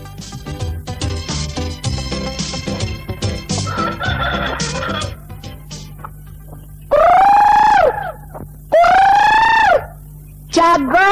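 A breeding rooster crows loudly and close three times in long, rising-and-falling calls, after a stretch of busy mixed sound with speaking voices.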